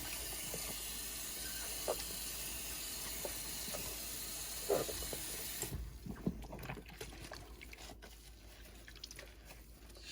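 Tap water runs steadily as the inside of a reborn doll is rinsed, a constant hissing flow that shifts and quiets partway through, with small splashes and knocks against the vinyl.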